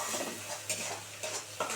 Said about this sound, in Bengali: এবার এটাকে সুন্দর করে কষাবো আমি